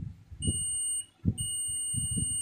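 A digital multimeter's continuity-test beep sounds as the probes touch a wire: a steady high-pitched tone starting about half a second in, breaking briefly, then resuming, over low background noise and handling sounds.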